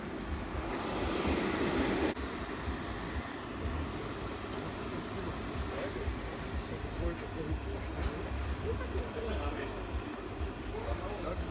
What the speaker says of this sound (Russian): Ну да, здесь ветер.